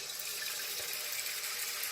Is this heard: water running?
yes